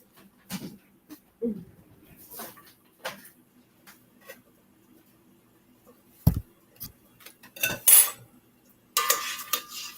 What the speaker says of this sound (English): Let's take them out of the boiling water.